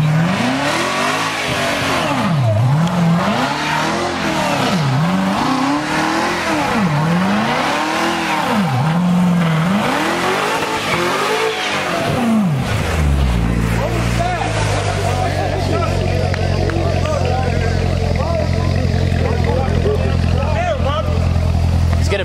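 Corvette Z06 and Audi S8 in a street race, engines revving in repeated rising-and-falling pulls, then a steady loud roar as the cars launch and drive off, with people talking and shouting nearby.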